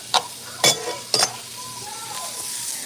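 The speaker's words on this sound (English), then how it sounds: "I hope you can hear me over the sizzling." Jambalaya frying in a pan, a steady hiss of sizzling underneath a few sharp clinks of a utensil against the pot, close and fairly loud.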